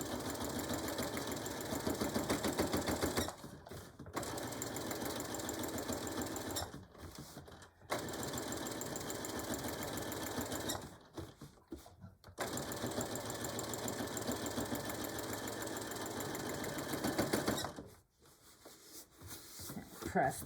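A sewing machine runs in long steady bursts while top stitching a bag, its rapid needle chatter stopping briefly several times between runs, with no talking.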